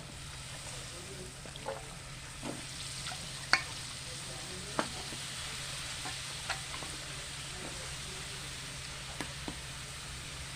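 Drumstick stalks frying in mustard paste with peanuts for data chorchori, a low steady sizzle with a faint hum beneath and occasional light clicks of a spatula, quiet and close.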